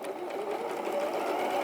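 A sewing machine stitching down the sides of a cushion cover runs with a steady, continuous mechanical whir, close and unbroken throughout.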